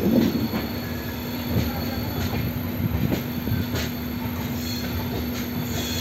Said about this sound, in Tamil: நம்மளுடைய பொதிகை சூப்பர் ஃபாஸ்ட் எக்ஸ்பிரஸ் இப்போது கடையனூர் ரயில்வே ஸ்டேஷனுக்கு 6:55க்கு வந்து ரீச் ஆயிருக்கு